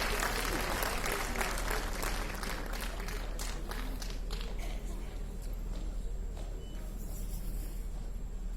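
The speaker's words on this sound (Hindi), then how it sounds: "एक बार जोरदार तालियों से इनका स्वागत और अभिनंदन करें।" A crowd applauding at a Delhi Police family welfare society event, a broad steady clatter of clapping that slowly thins, with talk and a low hum underneath.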